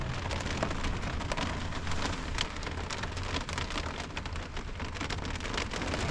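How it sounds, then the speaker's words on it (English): Steady heavy rain pouring down at a truck campsite at night, a dense even hiss of drops hitting surfaces all around, with no voices. "It's raining pretty good."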